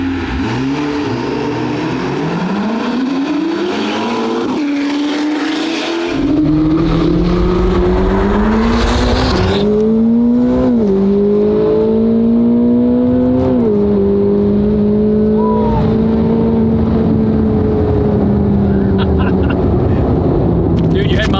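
A modified Corvette C8 ZR1 accelerating hard through a 60 to 130 mph roll race, its loud engine climbing through the revs with several clear gear changes, heard from inside the car with a steady roar throughout.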